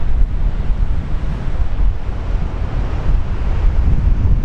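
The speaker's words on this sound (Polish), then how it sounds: "Wiatr dalej wieje, mocny." Strong wind buffets the microphone on the beach at Łeba on the Baltic Sea while waves roar underneath in a loud, continuous rush with gusty swells.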